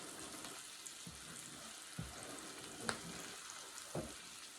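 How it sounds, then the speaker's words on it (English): Onions sautéing in a pan give a steady close frying sizzle, with a few soft stirring knocks and scrapes spaced about a second apart. "you just want to let that sizzle down and wait for it to cook"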